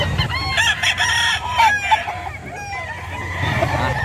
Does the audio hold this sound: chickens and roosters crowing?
yes